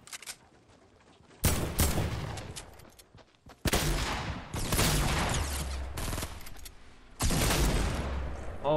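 Heavy assault rifle fire in Fortnite Battle Royale, loud sustained automatic bursts in three long volleys separated by short pauses, close and dominant.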